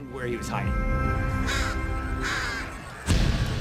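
Crows cawing in several harsh, separate calls spread across a few seconds, loud and close, under a voice speaking French.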